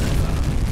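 A torpedo explodes on impact with a ship in the UBOAT submarine game, a heavy, sustained low boom rumbling loudly throughout the brief moment.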